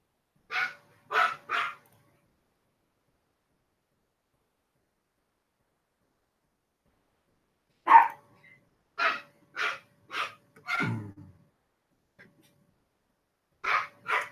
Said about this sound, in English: Mama's home, so doggies are barking.